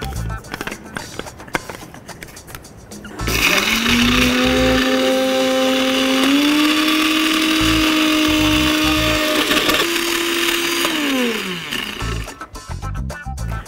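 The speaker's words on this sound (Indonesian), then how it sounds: "kita blender pakai sedikit minyak" A blender grinds a spice paste of toasted candlenut, garlic, coriander, palm sugar, salt and a little oil, its loud motor whine steady for about eight seconds and rising slightly in pitch, with quieter kitchen noise before and after.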